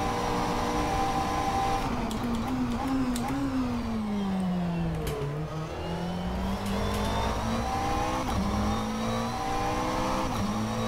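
A McLaren 720S GT3 race car engine drones loud and close in rFactor 2. Its pitch rises and falls steadily as the throttle is worked through corners, and no voices are heard.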